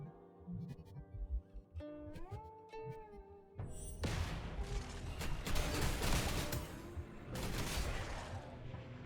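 Enemies blowing up on defeat in the action game Torchlight: Infinite, a dense run of overlapping bursts and crashes that follows quieter tonal effects and stays fairly faint under the game audio.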